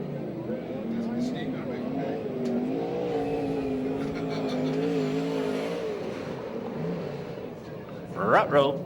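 USAC/CRA sprint cars racing on a dirt track at Alger, Washington: engines roar and whine continuously at a steady distance, with a race commentator talking over them and a louder surge near the end.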